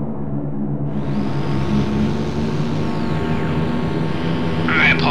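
Droning radial engines of a B-24 Liberator bomber in the IL-2 1946 flight game hum steadily and loudly, easing as the formation lead cuts throttle, with a brief higher whine near the end.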